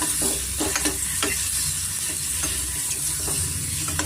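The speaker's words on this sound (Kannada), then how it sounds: "ಮೊಟ್ಟೆನ ಚೆನ್ನಾಗಿ ಫ್ರೈ ಮಾಡ್ಕೊಳ್ಳೋಣ" Eggs for a green egg curry frying on medium heat while being stirred, with repeated spatula scrapes and clicks over a steady hot sizzle, close and without talk.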